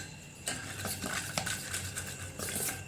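A spoon stirring chicken masala spices in a metal pan, with quiet repeated scraping and clinks against the pan over a faint background, fairly close and low in level, no talking.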